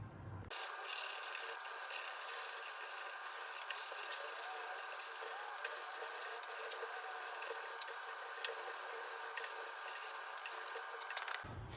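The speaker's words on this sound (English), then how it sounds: "1 minute of scrubbing is already looking 100 times better." Metal is scrubbed by hand until shiny: a continuous, close, rasping rub with scratchy strokes, steady throughout with no talking.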